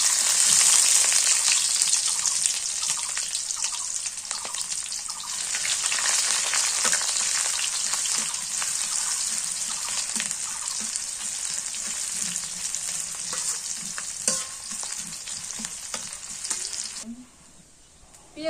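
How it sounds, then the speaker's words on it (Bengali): Onions, bay leaves and whole spices sizzle steadily in hot oil in a pan, a loud continuous frying hiss with occasional stirring scrapes, fading and quieting abruptly near the end. "পেঁয়াজ আর মশলা ভাজা হয়ে গেছে"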